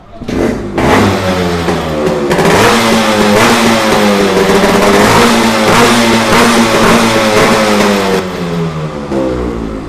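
A Yamaha RX100 motorcycle with a modified exhaust chamber revs loudly and close, rising and falling repeatedly in throaty bursts over a continuous idle rumble.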